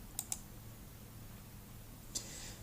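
A few quick, close mouse clicks: a pair of crisp ticks near the start and a single click near the end, over a quiet room hum.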